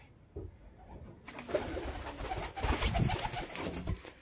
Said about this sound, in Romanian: Uitați porumbei.